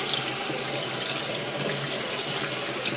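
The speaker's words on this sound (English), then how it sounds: "I like to wash the rice and make sure the rice is all washed out." Rice washed in a pot under running tap water, a steady close hiss of flowing water with faint splashing, continuous throughout.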